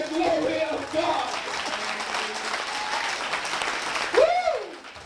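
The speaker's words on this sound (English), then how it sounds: "Clap your hands to the glory of God." A church congregation claps hands during a sermon, with continuous, lively applause filling the room while voices call out near the start and end.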